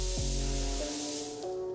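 A DV1 spray gun with a 1.3 tip at 16 PSI lays down a metallic base coat, giving a close, loud, steady airy hiss with slight shifts in tone and no talk.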